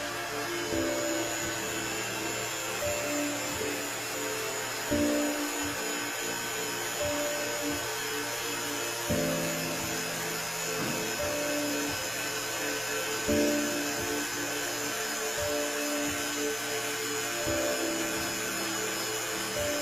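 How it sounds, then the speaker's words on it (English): A vacuum chamber pump runs steadily over a beaker of water, giving off a continuous mechanical hum with a few brief surges and no voices. "Then we're gonna cover it with the vacuum chamber and then turn it on and see what happens."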